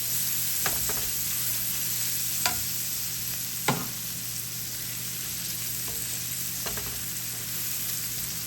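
Onions and vegetables for meatloaf fry in a pan with a steady, even sizzle, broken by a few sharp scrapes and clicks of stirring, close by and without talk.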